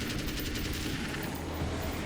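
Assault rifle fire in the video game Alan Wake's American Nightmare rattles as a steady, loud burst of rapid automatic shots, continuous for about two seconds with no talk over it.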